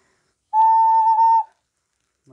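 A single sustained whistle-like tone from a blown ocarina, steady and clear for about a second, then silence with a brief low sound at the end.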